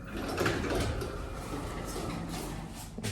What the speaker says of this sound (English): I've actually never used this elevator because I'm on the second floor.